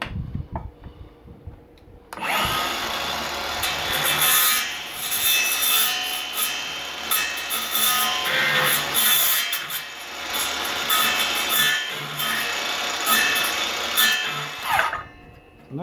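A hand saw cutting through wood while building a raised garden bed, rapid rhythmic rasping strokes, loud and close, running continuously after a quiet start.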